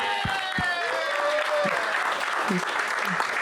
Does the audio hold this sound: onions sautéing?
no